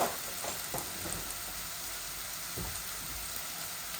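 Crushed garlic added to a pan of pabda fish and vegetables, frying with a steady close hiss for about four seconds, broken by a few soft stirring knocks.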